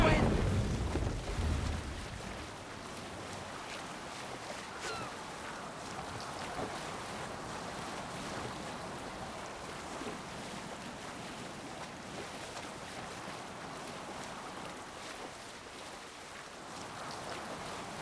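A sailing ship cuts through ocean waves in Assassin's Creed, with a steady wash of surf, water and wind rushing continuously, louder for the first couple of seconds before settling into an even roar.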